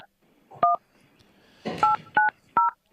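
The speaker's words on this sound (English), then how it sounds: "You can play these tones into a phone, into the microphone, and it will dial that number." Four telephone keypad DTMF tones play into a Zoom meeting, short clear beeps with brief gaps between them, plus a little faint background noise.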